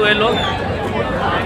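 A dense, steady hubbub of a large crowd fills Calangute Beach in Goa during a New Year celebration, with many overlapping voices heard from close range.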